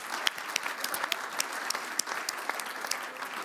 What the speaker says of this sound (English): Could you just give warm applause to your 4 brilliant speakers and your fabulous moderator?